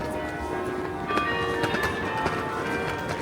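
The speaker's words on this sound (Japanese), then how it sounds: "教会の鐘が鳴ってきて" Church bells in Bruges, Belgium ringing at a moderate distance, with repeated tolling strikes and sustained tones over steady outdoor background noise.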